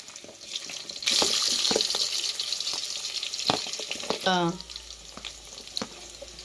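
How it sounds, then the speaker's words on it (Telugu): Potato, carrot and green chili pieces sizzling in a pan, a steady hiss of frying with scattered scraping and stirring knocks, fairly close, and a brief voice near the end. "బంగాళదుంప, క్యారెట్, పచ్చిమిర్చి ఇంకన్నీ బాగా ఫ్రై చేసుకున్నామండి."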